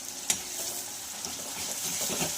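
Homemade masala paste with softened onion and tomato being stirred and fried in a pan: a steady, soft sizzle with a sharp utensil clink near the start and light scraping stirs throughout.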